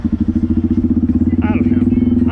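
A Honda Grom motorcycle engine drones at a steady, pulsing idle-like rhythm, loud and close as if heard from inside a helmet, with a brief voice partway through.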